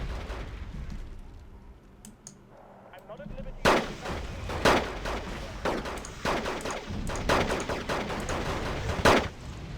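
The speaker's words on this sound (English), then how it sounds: "I don't even know what's friendly artillery and what's enemy artillery anymore" Artillery barrages in the war strategy game Wargame: Red Dragon, with a quiet rumbling stretch giving way to a series of loud, sharp blasts and booming impacts in irregular bursts, some close, some more distant.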